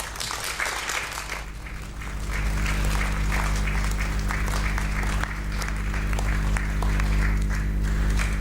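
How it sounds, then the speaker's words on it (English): Sustained applause from a large audience at a ceremony marking the activation of Asia's largest optical telescope, with steady clapping that swells and holds loudly throughout. "I think this deserves a new round of applause."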